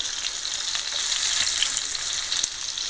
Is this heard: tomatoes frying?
yes